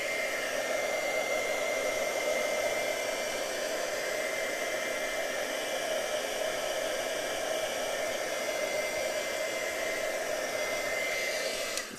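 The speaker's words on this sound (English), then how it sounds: "take your heat tool and then go ahead and dry it up" A heat tool blows steadily to dry wet paint on a handmade card, a loud, even whooshing hum held near the microphone without pause for about twelve seconds, no voices.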